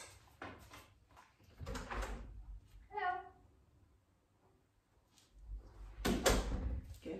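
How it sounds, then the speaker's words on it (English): A house door creaks and knocks as it is eased open wider during dog training at the doorway, with a couple of short thuds near the start and end, and voices in the background. "I'm going to open the door a bit further this time"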